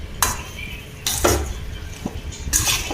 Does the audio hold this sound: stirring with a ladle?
yes